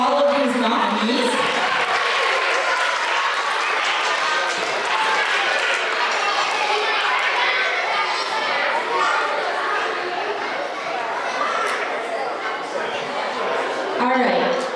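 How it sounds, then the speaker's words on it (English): Sustained applause and cheering from a large group of children and staff at an elementary school assembly honoring nominees, a dense, steady roar of clapping filling the room for about fourteen seconds. "Let's start them off with a big round of applause for all of these nominees."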